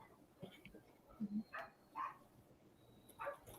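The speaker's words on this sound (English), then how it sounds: "Somebody stirred up the dogs." Dogs bark indoors at night, several sharp barks popping out in scattered bursts at a moderate distance over a quiet room background.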